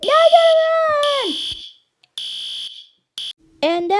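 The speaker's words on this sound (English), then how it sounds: "Kids, you better line up. There's a fire alarm." A school fire alarm rings in loud, steady electronic tones in several separate bursts with short silent gaps, while voices shout and call out over and between the blasts.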